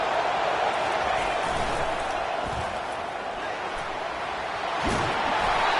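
A football stadium crowd roars in a steady, loud wash of cheering that fills the space, with a couple of brief thuds rising out of the noise.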